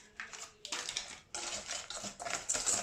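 Waffle batter with yeast is stirred in a bowl, giving quick bursts of clinking and scraping utensil strokes with short pauses between them, close and fairly loud.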